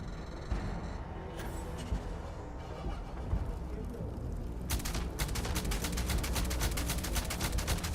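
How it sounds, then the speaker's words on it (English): Hunting rifle fire in the Starfield video game: a few scattered sharp shots early on, then a dense rapid burst of gunfire crackling through the final seconds, loud and near over background game noise. "try the hunting rifle real quick."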